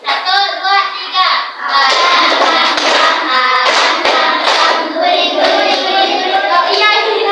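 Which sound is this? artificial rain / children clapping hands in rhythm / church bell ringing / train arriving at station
children clapping hands in rhythm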